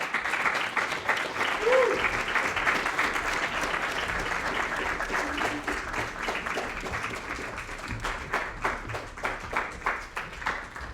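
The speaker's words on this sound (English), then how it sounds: "we'll give one more round of applause for everybody" A church congregation claps for students gathered at the front after a performance, dense continuous applause held at a steady level, thinning slightly toward the end.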